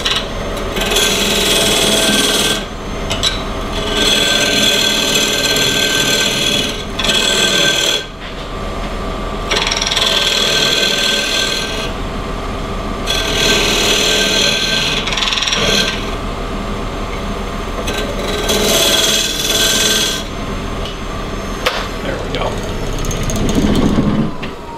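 A skew chisel cuts a tenon on a log being turned into a bowl on a wood lathe, giving a steady, close, loud scraping rasp in long sustained passes with brief breaks between cuts.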